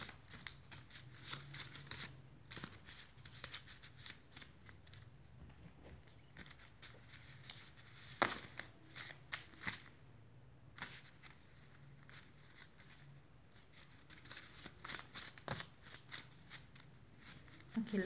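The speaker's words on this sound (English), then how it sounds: "one last shuffle." Tarot cards being shuffled by hand, soft papery riffling and flicking in irregular bursts, quiet and close, with faint talking in the background.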